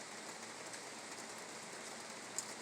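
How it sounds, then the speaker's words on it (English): Steady rain falls in a soft, even hiss with pattering drops on a surface, quiet and continuous throughout, with no voices. "Rain."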